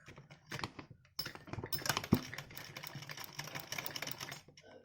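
A sewing machine runs in quick rattling bursts, stitching along the edge of fabric for a top, close and fairly quiet, with short pauses and a handling click between runs.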